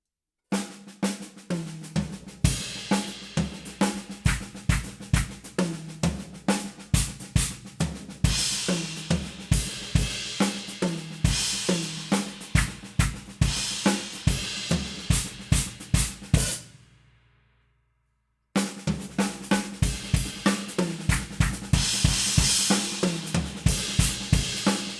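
Drum kit playing a steady groove and fills, with bass drum thumps layered onto crash and cymbal hits, a bright wash of cymbals over punchy repeated strikes, close and loud, broken by a short silent gap before resuming.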